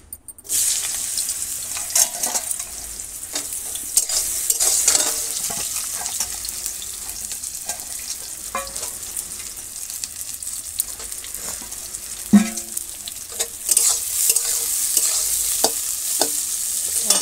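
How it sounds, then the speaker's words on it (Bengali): Sliced bitter gourd (uchhe) fries in oil in a village kitchen, a steady close sizzle broken by repeated scraping and stirring knocks at an uneven rhythm, with no talking. "আর এখন উচ্ছেটা তেলের পর দিয়ে একটু ভেজে নেব।"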